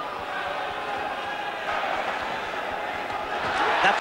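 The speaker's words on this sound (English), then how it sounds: "And this Belfast crowd" A Belfast crowd roars at a boxing fight, a dense continuous wall of noise that swells near the end, with commentary underneath.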